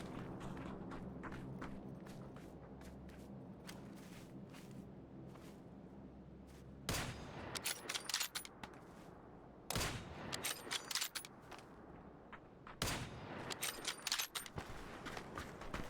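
Bursts of rapid gunfire in a PUBG match crackle in clusters, quiet at first then louder and denser, with footstep-like thumps between volleys and no talk.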